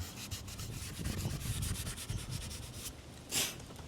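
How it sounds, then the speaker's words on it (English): A cloth rubs wax build-up off caravan mounting brackets in a steady, close, scratchy back-and-forth scrub. The rubbing ends with one brief louder swipe. "All we're doing is taking the build up, like wax and stuff off it."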